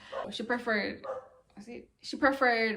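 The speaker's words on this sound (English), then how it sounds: "ignore the dog" A dog gives a few yipping, bow-wow barks nearby, mixed in with someone talking over them.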